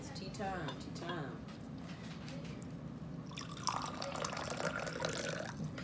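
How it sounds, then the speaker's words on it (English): Water being poured into tea, a soft trickling and dripping that swells into a brighter, steadier pour in the second half, faint and close. "Put that water in that tea."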